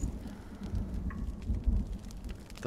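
Stormy ambience in the video game Hellblade: Senua's Sacrifice, with low rolling thunder rumbles that swell and fade over continuous rain patter, no voices.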